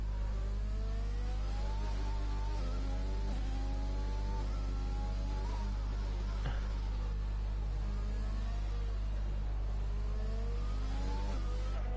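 A Formula 1 race car engine in the F1 2020 video game at the Azerbaijan Grand Prix, whining steadily as it rises and falls through gear changes, with a constant low hum beneath.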